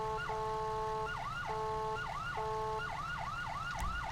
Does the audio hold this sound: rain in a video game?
no